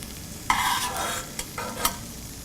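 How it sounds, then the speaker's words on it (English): Raisins fry in hot ghee, giving a soft sizzle broken by a few stirring scrapes and clicks, quiet and close, with no voices. "Fry the raisins until they become full and plump."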